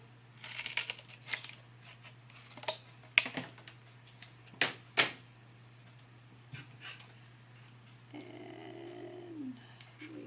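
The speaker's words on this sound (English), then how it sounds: "I'm going to grab another little piece of cardboard. Cut me out another one." Scissors snipping through cardboard, a handful of sharp, close crunching cuts spaced irregularly over a quiet steady hum, with faint rustling toward the end.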